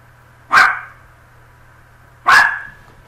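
A dog barks twice, two sharp, loud, close barks about two seconds apart with quiet room tone and a low hum between them.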